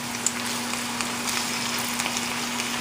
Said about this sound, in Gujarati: આપણે ખાલી આ તળશું જરાક જ, એટલું જ કે શું જરાક સ્ટર ફ્રાય થઈ જાય